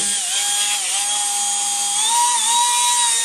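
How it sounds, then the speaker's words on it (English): Dremel rotary tool shaping a part held in a clamp, a loud, close, high-pitched continuous whine whose pitch dips and rises slightly as the bit bites, with no talking. "go in with my Dremel"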